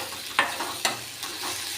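Spices sizzle in hot oil with a steady crackling hiss, broken by a couple of sharp pops and stirring clinks nearby; no one speaks.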